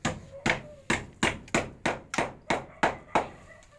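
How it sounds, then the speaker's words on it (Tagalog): Hammer driving an expansion bolt into concrete: ten sharp, evenly spaced metallic strikes at a steady rhythm, close and loud, with no talking over them. "Nilalagyan ni Danny yung itong expansion bolt."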